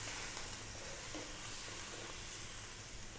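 Spicy Filipino pig's tail adobo cooking in a pan, giving off a steady, soft sizzling hiss of simmering liquid that stays even throughout.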